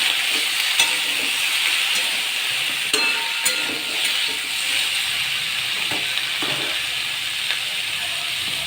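Vegetables with chopped tomatoes, in a mixed drumstick vegetable dish, being stirred in a pan: a steady bright sizzle with scattered scraping clicks of the spoon throughout, fairly close, with no talking.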